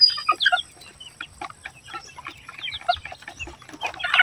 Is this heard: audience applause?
no